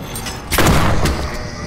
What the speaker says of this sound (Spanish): Voy a pegarle un escopetazo.